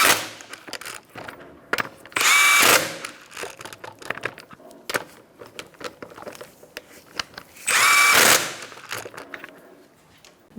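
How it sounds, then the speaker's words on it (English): An impact wrench or power ratchet tightens lug nuts on a 2014-2019 Kia Soul wheel, two loud sustained buzzing bursts close by, separated by ratcheting clicks and handling noise, no talking. "You're going to tighten up the lug nuts in a star-like pattern."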